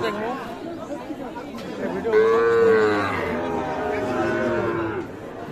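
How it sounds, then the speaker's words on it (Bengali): A Sahiwal bull calf at a cattle market lets out one clear, drawn-out moo partway through, close by, amid busy crowd chatter and people talking nearby. "এইখানে একটা দেখছিলাম শাহিওয়াল ষাঁড় বাছুর"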